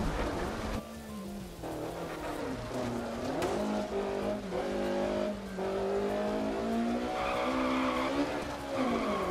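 M3 Evo rally car in DiRT Rally, engine droning loud and continuous with rising and falling revs over about nine seconds while tires scrub and skid through corners, steady and close throughout.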